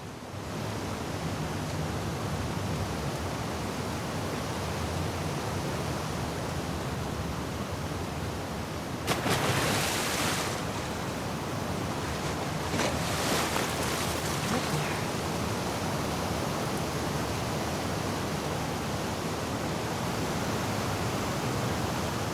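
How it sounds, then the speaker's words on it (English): Rushing water and surging waves fill the flooded Seattle sewers in The Last of Us Part II, a steady broadband wash throughout with two louder splashing surges partway through, no voices. "swimming to the aquarium as Ellie, when you were avoiding the waves."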